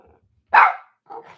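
A pet dog barks indoors: one loud, sharp bark followed a moment later by a softer, shorter double woof, close to the microphone.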